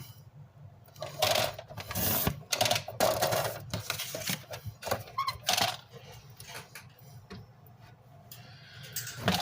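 Someone cuts a 6x6 inch paper piece to size, close and quiet, with a run of crisp scraping and snipping strokes in irregular bursts and short pauses between them.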